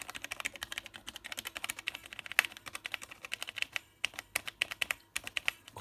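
Buttons being pressed on an Elektron Digitakt drum machine after a soft fix for sticky keys, with a TPE rubber coating. Rapid, crisp clicks come close and steady in quick succession, alone.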